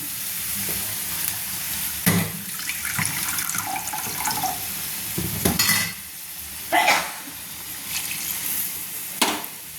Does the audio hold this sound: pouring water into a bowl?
yes